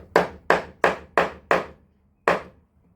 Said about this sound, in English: The first thing you want to do is use the smaller chisel to make the edges